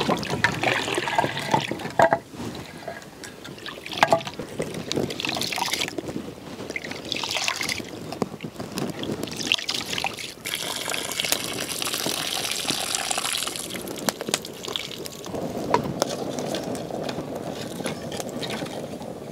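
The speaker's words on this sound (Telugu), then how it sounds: "నువ్వు వెళ్ళి బియ్యం కడుకురా" Rice being washed by hand in a pot of water, with steady sloshing and gushing of water running throughout, fairly close and continuous with brief swells.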